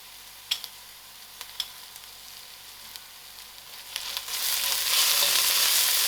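Garlic and fresh thyme fry in a pan for a vegetarian soya mince lasagna, a steady close sizzle with a few small clicks early on, the hiss swelling louder toward the end; no talking.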